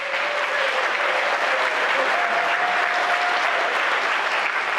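An audience at an evening community forum applauds to acknowledge local community leaders, a dense, steady wash of clapping from a full room that holds evenly throughout without a break.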